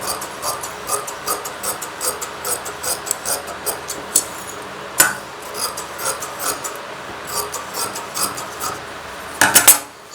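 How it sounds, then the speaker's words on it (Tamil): Scissors cut through blouse cloth along a half-inch margin: a steady run of crisp rasping snips, close and fairly loud, repeating in an even rhythm, with a sharper clack of the blades near the end. "இதை அப்படியே நம்ம ஒரு 1/2 இன்ச் கேப்பில் அப்படியே கிளாத்தை கட் பண்ணி எடுத்துக்க போகிறோம்."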